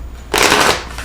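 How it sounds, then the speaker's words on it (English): Tarot cards shuffled at a live reading, one loud close riffle lasting about half a second, then a softer trailing rustle as the deck settles. "I've taken liberty of shuffling your cards"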